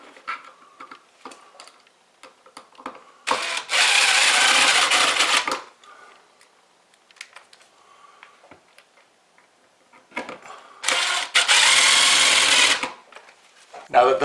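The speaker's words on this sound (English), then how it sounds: "where I took out those flathead screws, we'll put in some Phillips screws now" Phillips screws driven into a ceiling box while a hard-wired smoke detector is swapped out, with two sustained bursts of power-driver whirring set apart by quieter handling clicks and taps.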